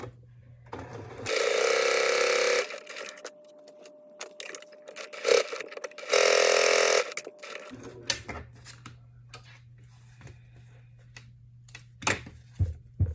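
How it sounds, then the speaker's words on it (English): A sewing machine stitches a short seam along a drawn gel pen line on a tiny fabric keychain bag, two loud steady bursts of rapid mechanical whirring separated by quiet handling clicks and rustles. "And then I will sew right on that line there."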